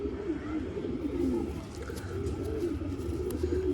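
Soft pigeon cooing in low repeated murmurs, steady and close, with quiet background noise and no talking.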